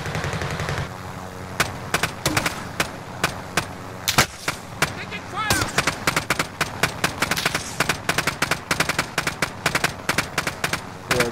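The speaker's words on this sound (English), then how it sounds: "Damn, we're getting shot at." Rapid bursts of automatic gunfire crackle through a Call of Duty: Modern Warfare match, sharp repeated shots stacking into steady volleys over a dense background of game ambience, with players talking briefly under the fire.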